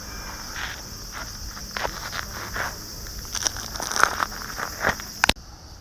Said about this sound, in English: skin that was shed. It's really crunchy.